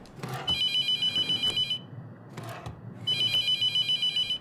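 A telephone rings in the horror video game The Mortuary Assistant, two bursts of rapid trilling electronic bell rings separated by a short pause, with soft background noise between.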